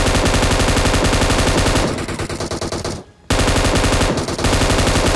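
Rapid automatic gunfire from a battle royale shooter roars in loud, continuous bursts, drops away briefly to near silence, then resumes at full intensity.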